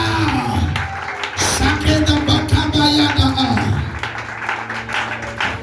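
A church congregation bursts into louder acclamation, with sustained clapping, cheering and shouting voices mixed together, peaking in the middle and tapering toward the end.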